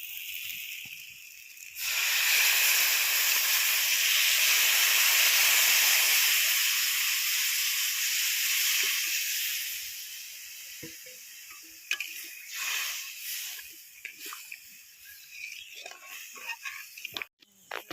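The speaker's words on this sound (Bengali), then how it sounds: "কচু সিদ্ধ করেছিলাম যে জলে, সেই জলটা এবার দিয়ে দেবো" Water in which taro was boiled hits a hot pan for fish curry, setting off a loud, broad steam hiss that holds for several seconds and then fades into bubbling, clicks and clatter.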